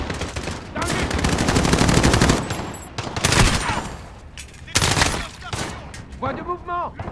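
Machine gun fire in the video game Call of Duty Modern Warfare during a campaign battle, with long loud rattling bursts, separate shots and pauses, mixed with game voices shouting amid the firefight.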